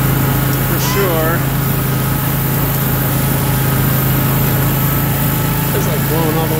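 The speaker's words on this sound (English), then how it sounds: "it's running good now" A snowblower engine runs steadily through a light snowfall in north central Massachusetts, a constant mid-pitched drone close by, with faint chirps or voices briefly rising over it.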